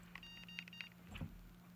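A Mini Educator ET-300 e-collar remote gives short, faint electronic tone beeps, several quick bleeps in a row over a steady low hum.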